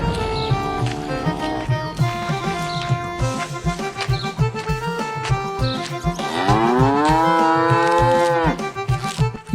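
Buffaloes moo in a shed in an animated story, several long, drawn-out lowing calls rising and falling over a steady rhythmic background, loud and close, with no speech.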